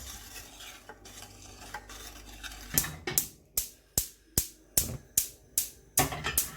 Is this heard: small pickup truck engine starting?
no